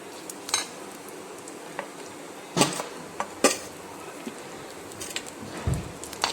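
Chopped jackfruit fibre is stirred in a cooking pan, giving scattered scraping and metallic clinks of a spoon against the pan, with a couple of louder knocks and a faint sizzle beneath, close and without talking.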